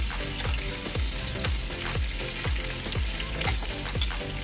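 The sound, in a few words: hotdog slices sizzling while frying in a pan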